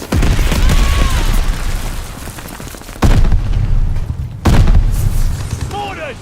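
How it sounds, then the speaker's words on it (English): Heavy mortar explosions land in Call of Duty: Vanguard, with loud booms at about 3 and 4.5 seconds over an ongoing battle din of gunfire and blasts. A voice talks in the background. "Mortars incoming!"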